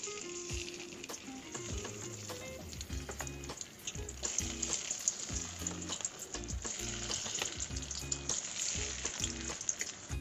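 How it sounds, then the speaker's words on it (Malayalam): Snake gourd pieces deep-fry in hot oil for a chilli snake gourd dish, giving a continuous bubbling sizzle with frequent sharp clicks and clatters of a ladle against the pan, fairly quiet and with no talking. "ഇനി നമുക്കിതുപോലെ ബാക്കിയുള്ളതും കൂടെ വറുത്ത് കോരാം"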